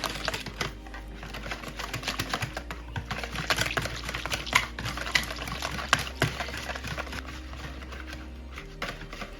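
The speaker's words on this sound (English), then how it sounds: "now I'm going to whisk it together properly" Whisk beating ginger into a strawberry trifle mixture in a bowl, a busy stream of quick light clicks and scrapes with occasional louder taps, steady throughout and fairly soft.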